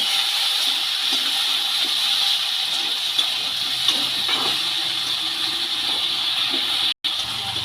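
Okra and potatoes fry with garlic paste, chili paste and spices in a hot pan, giving a steady, close sizzling hiss that is unbroken except for one brief dropout near the end.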